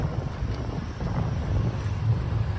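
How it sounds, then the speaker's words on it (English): Wind gusts high on the 59th Street Bridge in New York City, a steady loud rumbling roar buffeting the microphone throughout with no talk. "noisy and windy it is up there today"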